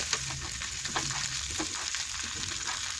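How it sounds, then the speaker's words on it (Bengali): Snacks sizzle steadily as they fry in a pan, with intermittent scraping strokes of a spatula stirring them, a continuous close hiss throughout and no voices. "এই দেখুন আবারও একটু নাড়াচাড়া করে নিচ্ছি।"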